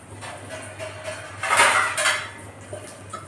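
A lid goes onto a pan of Gujarati handvo with a metallic scrape and clatter that peaks in the middle, close and fairly loud, amid light kitchen clinks with no talk.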